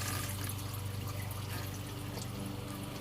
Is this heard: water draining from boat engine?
yes